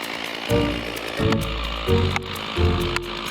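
Chainsaw working on dead trees outdoors during property cleanup, loud bursts of engine revving in four pulses of roughly half a second each with brief idling between.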